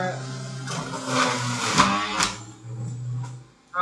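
A juicer grinds through a carrot with a steady, loud motor whir that rises and strains as the carrot feeds in, while someone talks over it.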